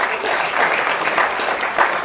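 An audience applauds at an Islamic religious gathering with hadroh music, a dense, steady clapping from a crowd that holds throughout.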